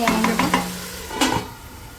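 Onion, potato, green chili and tomato masala roasting in a pan, a soft sizzle with a few quick stirring scrapes and clinks, close by and without speech.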